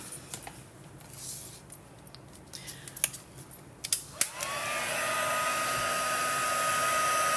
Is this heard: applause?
no